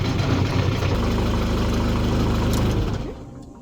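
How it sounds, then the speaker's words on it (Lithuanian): Opel Frontera engine running rough at idle, a steady close low rumble with uneven pulsing throughout, dropping away near the end as it quiets. "Ir variklį žiauri prastai dirba"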